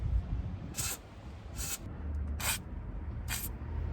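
Four short, sharp bursts of aerosol spray are aimed at the rear brake bolts of a 2017 Honda Accord, evenly spaced about a second apart over a low background rumble.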